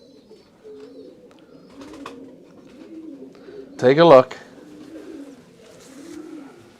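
A pigeon gives one loud, close, throaty coo lasting under half a second, amid low background murmur while someone talks quietly.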